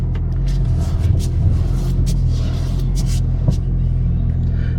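Inside a 2015 Maserati Ghibli S Q4 cruising through a residential neighborhood: a steady, close low engine and road rumble with faint tyre hiss and no one talking.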